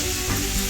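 Chopped onion sizzles hard in hot oil in a kadai, a loud, close, continuous hiss and crackle over a brief moment.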